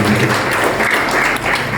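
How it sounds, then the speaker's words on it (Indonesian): Church congregation applauding during a Sunday service, a dense, continuous wash of clapping that stays loud and steady throughout with no pauses. "Kita berikan tepuk tangan yang luar biasa buat Tuhan."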